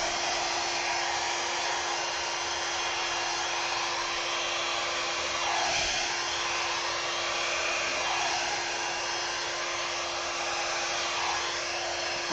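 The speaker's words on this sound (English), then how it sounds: "turn down your volume because here comes the hairdryer" A hair dryer blows loudly and steadily at high speed, a constant whooshing roar with a faint whine, running alone throughout.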